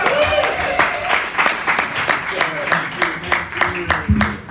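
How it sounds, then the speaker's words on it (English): Audience applause at a stand-up comedy show in a Brooklyn bar, with scattered claps and cheering, rhythmic bursts of clapping under voices and some music-like tones throughout. "please give a big round of applause for Jim Sir."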